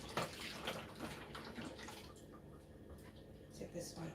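Water is poured into a pot during cooking, a faint, steady splashing trickle lasting several seconds.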